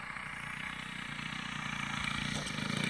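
WACO biplane engine running in flight, a steady droning radial-style rumble with a fine pulsing beat, moderately distant, rising slightly toward the end, with no talking.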